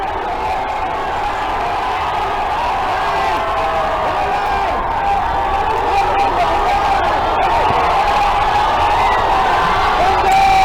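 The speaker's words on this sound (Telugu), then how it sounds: "త్రివర్ణ పతాకాన్ని చేతిలో పట్టుకొని డాన్సులు చేస్తూ కేరింతలు కొడుతూ అరుస్తూ తమ లవ్ని ఎక్స్ప్రెస్ చేస్తున్నారు" Cricket fans packed along Nariman Point in Mumbai celebrate India's T20 World Cup win, dancing and waving tricolour flags. A dense crowd cheers, whoops and shouts in a continuous, loud roar that swells slightly toward the end.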